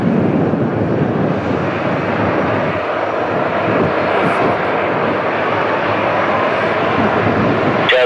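A WestJet airliner takes off from the runway, its jet engines giving a loud, steady roar that fills the whole stretch without a break.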